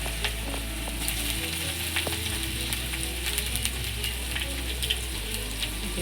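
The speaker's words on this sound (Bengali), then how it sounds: "আলুগুলো ভাজবো তাই জন্য তেলটা দিচ্ছি পুঁই মেচুরির তরকারি করব বলে আলুগুলো দিয়ে দিচ্ছি আলুগুলো একটু লাল করে ভেজে নেবো" Potato pieces fry in hot oil in a home kitchen, giving a steady close sizzle with small crackles and pops and the odd stir, with no talking.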